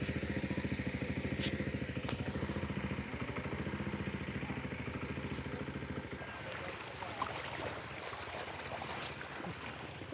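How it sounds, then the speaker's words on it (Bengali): Irrigation pump engine drawing pond water onto a potato field, a steady rapid chugging drone heard nearby throughout, loud and continuous with faint outdoor noise above it. "ওখানে যেহেতু দমকলটা চলছে ওর থেকেই জল আসছে, পুকুর থেকে জল দিচ্ছে।"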